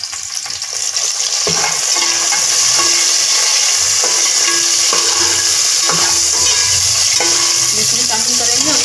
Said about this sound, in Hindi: देखिए प्याज हमारे ब्राउन हो रहे हैं।